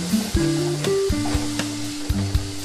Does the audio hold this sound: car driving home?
no